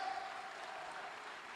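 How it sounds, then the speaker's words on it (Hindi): Dense, even clapping from an audience fills a hall during a motivational business seminar, a brief, steady burst of applause. "जोरदार ताली के लिए"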